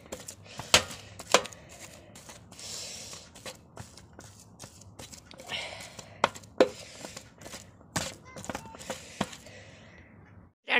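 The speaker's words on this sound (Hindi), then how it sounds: "आलू फोड़ लाए हैं देखो सब" Boiled potatoes are broken open and mashed by hand for stuffed parathas, giving irregular soft squelching knocks and scraping sounds, close and fairly quiet, with no talk.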